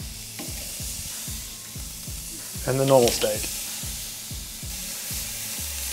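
Frozen and thawed steaks sizzle and crackle steadily on a hot grill, with a brief spoken remark partway through.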